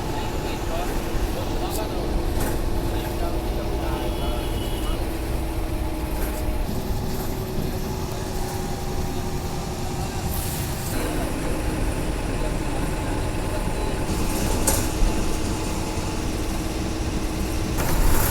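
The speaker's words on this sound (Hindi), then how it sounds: "बस जो है पूरी तरह से भोपाल शहर के बाहर आ चुकी है" An MSRTC bus is on the road just outside Bhopal, heard from inside as a constant loud engine and road rumble with a few rattles and bumps, steady throughout with no clear talking.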